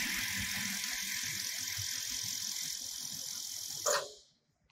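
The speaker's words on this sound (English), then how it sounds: "Press the speed controller again, back to the normal sewing speed." An industrial sewing machine runs at normal sewing speed with a steady close mechanical whir and rapid needle clatter, then stops abruptly with a brief clack before falling silent.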